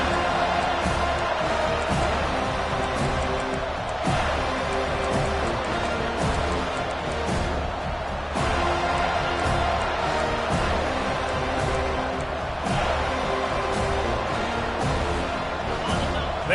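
A College Football 25 stadium crowd roars steadily and loudly throughout, a dense sustained cheer with a commentator talking over it.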